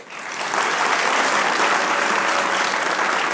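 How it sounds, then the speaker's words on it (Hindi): A studio audience applauds a guest on a talk show, the clapping swelling quickly from a quiet start into a dense, sustained wave of many hands that stays loud to the end. "जहां आरा साहिबा से ताली बजाइए।"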